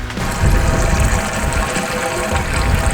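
Water rushes steadily into a boat's onboard water tank at the dock, making a loud, constant gushing and churning with a low rumble underneath and no pauses.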